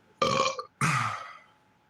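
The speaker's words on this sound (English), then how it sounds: "Sometimes burps smell worse than farts." A person burps twice in quick succession, close and loud, the second burp longer and trailing off, with no talking.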